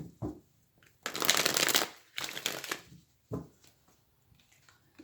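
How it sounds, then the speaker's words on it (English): Two quick riffle shuffles of a tarot card deck in close succession, crisp and near, followed by a few soft taps and card handling. "One more shuffle."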